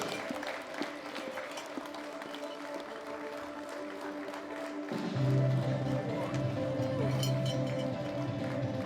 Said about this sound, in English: Give them all a big round of applause, all of our winners.